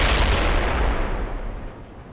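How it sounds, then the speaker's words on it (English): Mortar fire in the World in Conflict battle game: a loud, booming explosive blast at the start whose rumble and debris wash slowly fade over two seconds, with no voices over it. "Molotov firing mortars"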